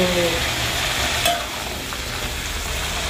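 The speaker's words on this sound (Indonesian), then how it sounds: "Terus kita goreng gini sampai layu ya." Tomato, chili and shrimp paste for sambal sizzle in a wok with steady frying hiss and occasional stirring scrapes, close and continuous without speech.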